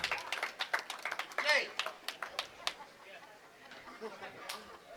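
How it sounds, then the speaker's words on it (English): Scattered claps and cheers from a small crowd at a Jordan Lanes bowling alley during a tenpin tournament, a burst of applause rising then thinning into sporadic claps, with people talking underneath. "Crowd goes wild."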